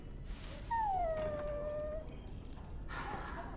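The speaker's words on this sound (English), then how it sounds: "Bloody dog." A dog in the fantasy role-playing game Dragon Age: Origins lets out a rising whine that slides down into a long, drawn-out whimper, clear and alone over a low background hum.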